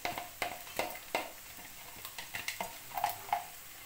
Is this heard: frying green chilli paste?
yes